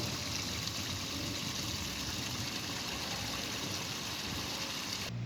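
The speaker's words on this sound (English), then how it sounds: "here is the Glen Brook itself. It's a rather narrow and forgotten watercourse" The Glen Brook, a narrow stream in North London, flowing as a steady, soft wash of trickling water, continuous and fairly faint throughout.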